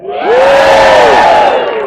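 A crowd roars at the Great Alaskan Lumberjack Show in Ketchikan, Alaska, with loud, sustained cheering and whooping that swells quickly and holds for nearly two seconds.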